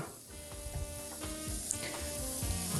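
Rice fries in oil in a pan, giving a close, steady sizzle broken by soft stirring scrapes every half second or so, without any speech.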